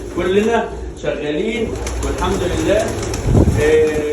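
Pigeons coo repeatedly in a pigeon loft on an Egyptian pigeon farm, soft rolling calls overlapping throughout, with someone talking over them.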